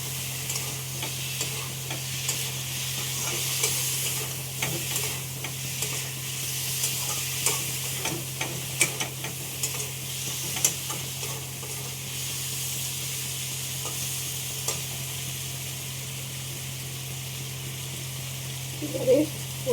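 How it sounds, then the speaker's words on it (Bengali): Prawns fry in a pan with a constant soft sizzle and hiss, with occasional stirring scrapes and clinks over a low steady hum. "এবারে চিংড়ি মাছগুলো দিয়ে দেবো।"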